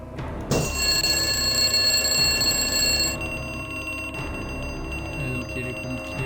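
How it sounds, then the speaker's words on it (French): In a video game, a school's fire alarm system rings out with a loud, rapid electric bell for about two and a half seconds. It then cuts off, leaving fainter lingering tones and background noise, with no talking. "faut actionner le système d'alarme pour attirer les pompiers à l'école"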